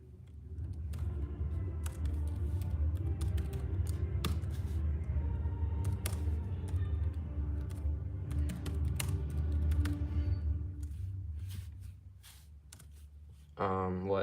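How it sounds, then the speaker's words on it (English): Someone typing a comment on a computer keyboard, a soft, steady patter of key taps running for several seconds beneath a low background hum, with a brief louder sound near the end. "Let me just type in a comment real quick."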